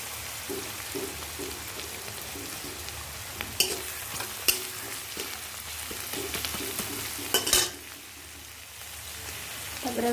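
Crushed garlic fries in a pan and is stirred, a close steady sizzle broken by scraping stirs and a few sharp clatters, with no talking.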